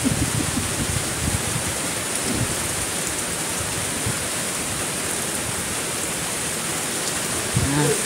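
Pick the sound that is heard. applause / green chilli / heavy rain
heavy rain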